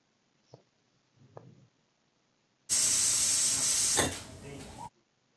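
Paneer pieces hitting hot oil in a pan, a loud sustained hiss of tawa frying that starts abruptly and cuts off after about two seconds, after a couple of faint kitchen clicks.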